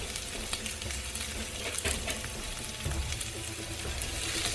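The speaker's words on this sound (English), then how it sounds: "Right now, we've got the oil hot. We're gonna add in our onion." Onion sizzling in hot oil in a pan, a steady bright frying hiss with small crackles and pops, close and continuous with no voices.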